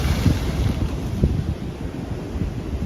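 Rough sea at Snehatheeram beach churns in a continuous low rumble of surf, with heavy wind buffeting the microphone and occasional thumps of breaking waves, all at steady loudness without speech.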